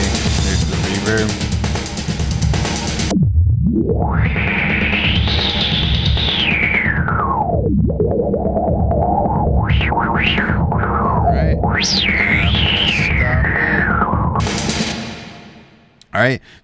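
Electronic music is run through delay and reverb effects controlled from a QuNeo pad controller in Ableton, with loud sweeping pitch glides, echoing swells and distorted textures that play continuously before cutting off abruptly near the end.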